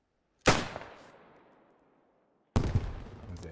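Schießbecher cup-type rifle grenade launcher of a World War I German rifle firing in Beyond the Wire: two loud, sharp blasts about two seconds apart, the first decaying into a long rumbling tail, no talk.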